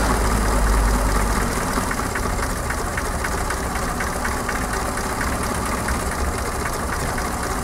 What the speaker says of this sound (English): This is now at a normal idle speed.